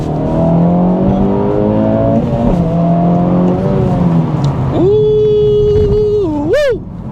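A 2024 Acura Integra Type S in Sport Plus mode revs hard as it pulls away under power, its engine note rising steadily and loud, near and continuous, with a brief high whine near the end.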